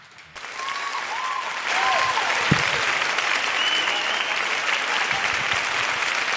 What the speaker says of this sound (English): you are clapping for me